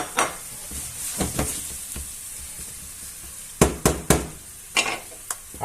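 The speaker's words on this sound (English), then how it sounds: "So I'll just add in the garlic and onion and just gently soften it up." Garlic and onion soften in hot oil in a pot for a Spanish chicken gizzard and chorizo stew, a steady close sizzle broken by several sharp knocks and scrapes of a utensil toward the end.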